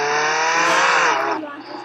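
A car driven underwater in a video game, giving a loud, steady engine and tire roar that holds for most of the moment and then eases off slightly toward the end.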